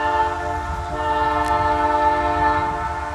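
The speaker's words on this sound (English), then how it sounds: "Hear that whistle blowing," A continuous chord-like whistle blast from the Canadian Pacific Holiday Train holds steady over the rumble of the train on the rails, strong and unbroken throughout.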